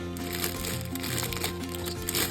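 Steady crinkling and rustling of a plastic bag of grapes, close and continuous, with a constant background hum underneath.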